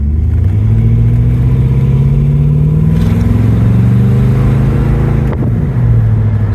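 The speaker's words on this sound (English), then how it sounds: "Let's step on the gas." A car engine revs hard and accelerates on a neighborhood street, the motor fitted with an Edelbrock 1791 electric fuel pump; a loud, steady drone climbs in pitch, eases, then rises again close up with no talking.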